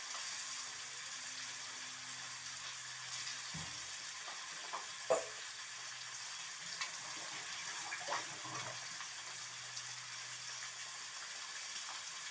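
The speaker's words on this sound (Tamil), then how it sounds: "இப்படியே கொஞ்ச நேரம் நல்லா செவக்கட்டும் மீன்" Fish for a Tamil fish fry sizzles in a pan on low heat, a soft, steady crackle with a few clinks and knocks of a utensil, fairly quiet and without talk.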